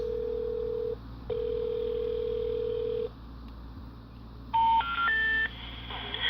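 A phone dials out over a speaker: a long steady tone, a pause, another sustained tone, then a quick run of stepped dialing beeps.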